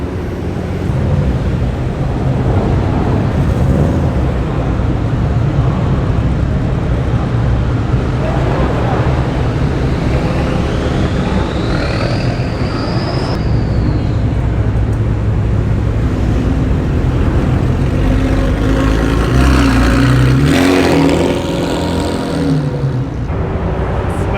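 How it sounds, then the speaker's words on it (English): Loud, continuous engine rumble from several idling and revving tuner cars leaving a car show, with rising whines, filling the whole stretch close by, with faint voices underneath. "So many exhaust noises in here."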